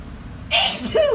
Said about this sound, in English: Excuse me, I sneezed away